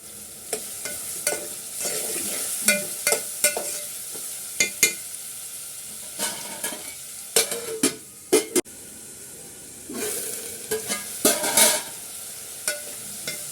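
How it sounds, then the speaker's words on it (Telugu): Raw prawns and onions frying in oil in a pan, a continuous close sizzle broken by repeated bursts of stirring and scraping against the pan, with no voices. "ఉల్లిపాయలు వేగుతున్న టైంలోనే మనం పచ్చిరొయ్యలు కూడా వేసేసుకున్నాం. ఇవి కూడా నూనెలో ఫ్రై అవ్వాలి కదా."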